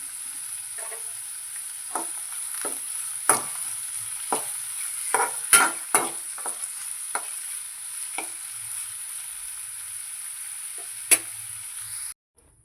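Onions fry with ginger-garlic paste for a cauliflower masala curry, a steady faint high sizzle punctuated by a dozen sharp spoon scrapes and taps, no talking, ending in silence.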